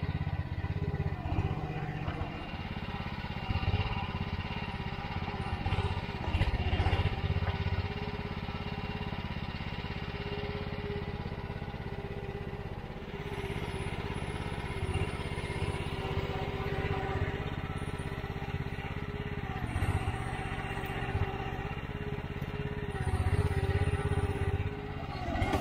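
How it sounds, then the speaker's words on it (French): A Mygale 600 mini excavator's engine runs steadily while it cuts an enduro cross track on open ground, a continuous, fairly quiet mechanical drone with occasional revving surges and clatter. "C'est fou la puissance de ce moteur quand même"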